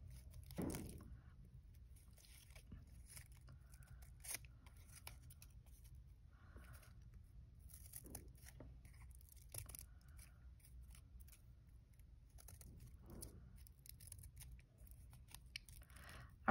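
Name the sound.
scissors cutting folded paper snowflake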